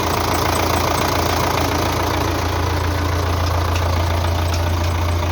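A Belarus 520 tractor engine runs with the hand throttle raised, a loud, steady diesel drone with a low, even pulse throughout, close by.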